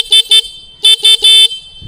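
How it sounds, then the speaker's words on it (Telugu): Horn of a Suzuki Gixxer SF150 motorcycle sounds in five short, loud, close beeps, two quick toots and then three, the last held slightly longer. "కింద హార్న్ అయితే ఉంది."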